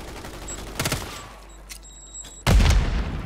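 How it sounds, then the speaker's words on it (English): In Call of Duty Warzone, a few sharp gunshots crack out early, followed by a loud, deep grenade blast near the end that booms heavily and lingers. "Random grenade."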